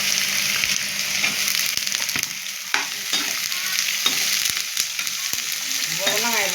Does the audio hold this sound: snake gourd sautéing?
yes